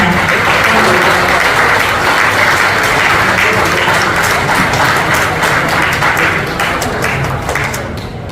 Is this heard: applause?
yes